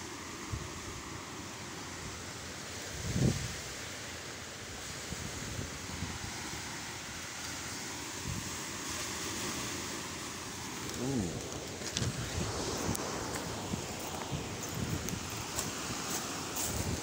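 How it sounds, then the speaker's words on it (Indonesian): Big ocean waves breaking on a beach near a coral reef where tuna-fishing boats pass, a steady broadband roar with wind buffeting the microphone and one louder surge, continuous and fairly close. "Wah, gede oge ya ombak di dianya."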